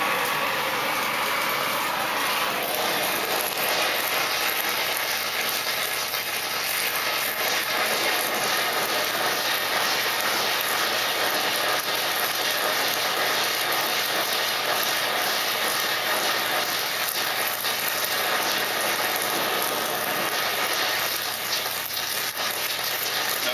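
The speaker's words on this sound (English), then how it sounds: "We're going to crank our torch up a little bit more." A torch roars steadily at close range as it heats metal for steam casting, a continuous loud broadband hiss with no talking.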